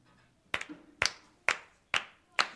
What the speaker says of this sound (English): Stomping and clapping and.